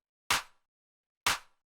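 A dry house clap drum sample without saturation, struck twice about a second apart, each a crisp, punchy snap with a short decay and silence between hits.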